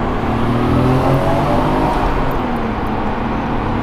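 Car cruising along a highway in Japan, a loud continuous engine drone with road and wind roar, steady and close throughout, with no talk.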